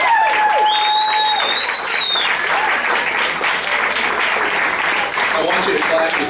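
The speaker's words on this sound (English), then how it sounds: "one last chance to give a round of applause to all of our graduating chiefs" A loud, continuous wave of applause with cheering and whoops from an audience honoring graduating chief residents, steady throughout with voices mixed into the clapping.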